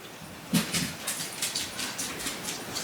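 A small pet dog named Scarlett yips and barks in short repeated bursts at home after a garbage truck passed, the sharp barks fairly close, with low background noise and no talk.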